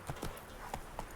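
Hooves of the horse Roach clip-clop at a walking pace in The Witcher 3, a quick run of four soft, close hoof falls with no talking.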